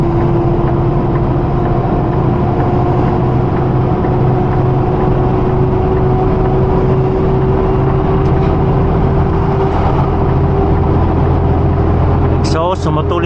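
Truck descending a long grade in British Columbia with its exhaust brake engaged, a loud, steady low engine drone that holds for the whole stretch while someone talks over it.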